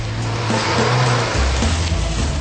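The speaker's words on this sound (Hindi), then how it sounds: "हार्पी तुम्हारी गाड़ी लेकर आ रहा है।" A car engine revs loudly and steadily as the car pulls up, a deep continuous rumble that shifts pitch midway with no voices over it.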